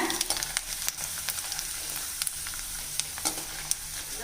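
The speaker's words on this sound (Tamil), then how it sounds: "வடகத்தை உள்ளே சேர்த்துருங்க மீடியம் ஃப்ளேமுக்கு கொண்டு வந்துடுங்க கொஞ்சம் பக்குவமாக வறுக்கணுங்க" Onion vadagam frying in hot oil over a medium flame, a steady bubbling sizzle punctuated by sharp crackles and occasional stirring clinks, close and fairly loud with no talking.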